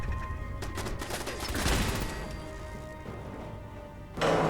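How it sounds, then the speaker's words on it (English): Explosions go off in the video game Fallout 4: a cluster of sharp bursts and booming crashes at the start, then a rumbling tail that fades, with a fresh burst at the very end. "Explosions everywhere"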